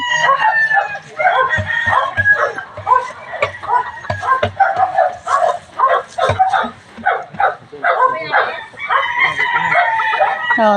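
Chickens cluck and a rooster crows repeatedly at a chicken coop, a busy, dense mix of fowl calls close by, with a dog barking now and then and people talking in the background.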